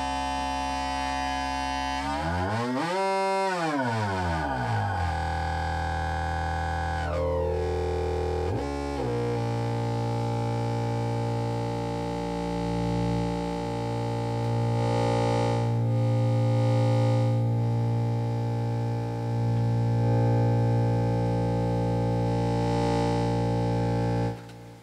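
A Synton Fénix II analog synthesizer's wave multiplier processing two sine waves, producing a loud continuous buzzing, distorted electronic tone with sweeping pitches and shifting harmonics, heard alone without speech.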